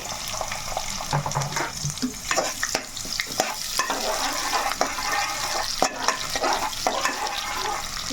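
Onion pieces frying in hot oil for mutton paaya curry, a busy crackling sizzle with repeated clicks and scrapes of stirring, close and continuous, no voices.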